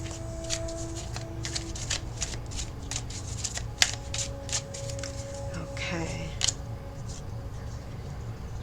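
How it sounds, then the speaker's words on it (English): Tarot cards shuffled by hand in a steady riffling patter, with occasional sharper snaps as cards are drawn and laid down, close and clear, while a faint tone hums underneath. "let's get a couple more cards here and see what else we can add to this"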